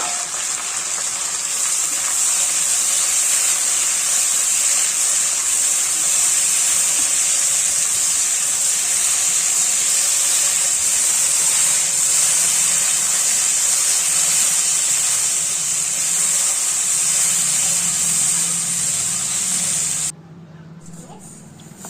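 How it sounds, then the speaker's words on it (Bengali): Cut potatoes dropped into hot oil in a pan hiss and sizzle loudly and evenly for about twenty seconds before the sound abruptly drops away. "কেটে রাখা আলুগুলো দিয়ে দেবো আলুগুলো একটু ভেজে নেবো"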